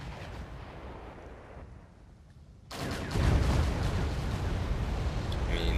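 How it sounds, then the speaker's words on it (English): Artillery fire in the video game Wargame: European Escalation, a continuous rumbling barrage of distant booms that briefly dips, then swells louder with a sharp burst and keeps thundering. "Artillery firing all over the place."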